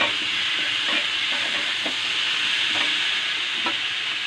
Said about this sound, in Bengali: অল্প একটু হলুদ দেব আর একটু লঙ্কার গুঁড়ো দিয়ে ভালো করে আমি একটু নাড়িয়ে নেব।